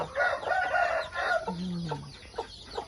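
A white hen clucks close by in a short burst, followed by a lower drawn-out call and a few softer clucks, with faint chick and background noise around it.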